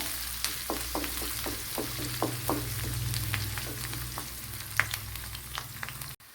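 Garlic, ginger and a green chili sauté in a pan for a Kerala mackerel fish curry: a steady oily sizzle broken by a dozen crisp clicks and scrapes of stirring, with a low hum beneath, no voices.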